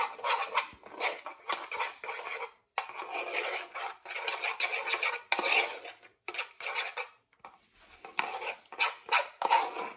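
Chopped parsley and garlic are mixed in a bowl, with rapid, uneven scraping and clinking of a utensil against the bowl, close up and continuing in bursts with short pauses.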